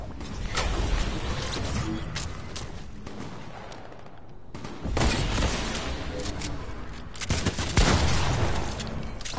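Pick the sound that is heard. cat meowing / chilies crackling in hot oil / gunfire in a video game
gunfire in a video game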